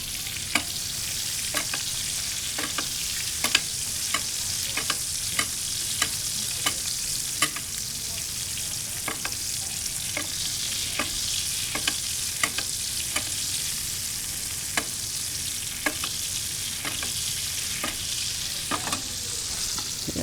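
Garlic frying in a pan beside a searing steak, turning golden brown, gives a steady, dense sizzle with regular sharp clicks of a utensil stirring and tapping against the pan throughout.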